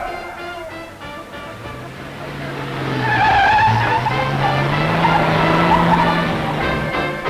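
A stunt sedan speeds along at a 1940s auto-racing show, its engine droning steadily while tires squeal and skid in a long rising smear, with loud crowd-like wash beneath.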